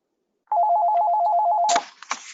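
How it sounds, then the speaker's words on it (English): A telephone rings with a steady warbling electronic trill for just over a second during a virtual public meeting, loud and alone, then cuts off into clicks and handling noise. "mute myself until my phone quits ringing"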